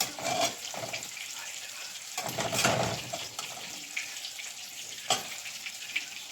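Food fries in hot oil in a home kitchen while a Ramadan breakfast is cooked, giving a soft, steady sizzle with a few brief crackling bursts. It stays fairly quiet throughout.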